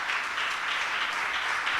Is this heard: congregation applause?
yes